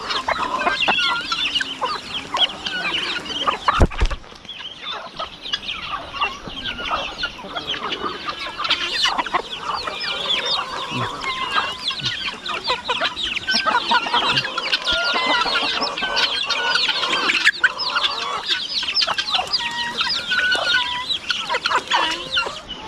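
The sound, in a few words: chickens clucking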